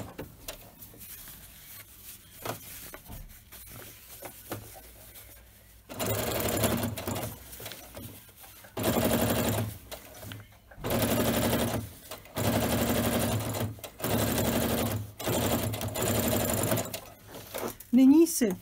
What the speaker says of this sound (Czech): můžeme ještě proštepovat. Aby jsme získali plochý šev.